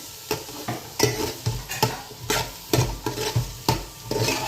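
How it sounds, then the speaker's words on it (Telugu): Fish curry fries in plenty of oil in a pan, a steady sizzle broken by repeated stirring scrapes and clanks of a spoon against the vessel, close by. "ఆయిల్ ఎక్కువగానే ఉండేటట్టు చూసుకోండి త్వరగా ఫ్రై అవ్వడానికి"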